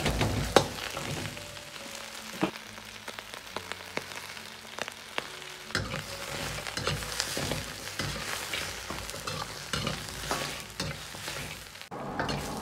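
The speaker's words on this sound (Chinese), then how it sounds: "大概要煸炒2分钟左右，炒至排骨表面稍微发黄" Pork ribs stir-fried in a hot wok over medium-low heat, a steady crackling sizzle with repeated scraping and clanking of the spatula against the metal throughout, no voices.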